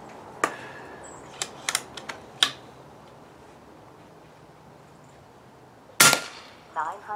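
An air rifle fires a Griffin .22 caliber LDC slug, one sharp, loud crack near the end after several lighter clicks and handling taps, with a brief faint rattle following.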